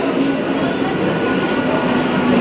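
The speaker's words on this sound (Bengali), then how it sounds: "মাতৃভূমি লোকাল ঢুকে গেছে।" A Matribhumi special local train pulls into a station in rain, a steady loud rumble of wheels and carriages with faint clatter running throughout.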